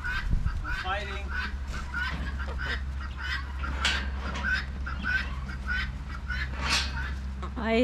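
Guinea fowls calling on a farm, a steady run of harsh, repeated squawking cries close by, layered over a continuous low rumble, with brief voices early on.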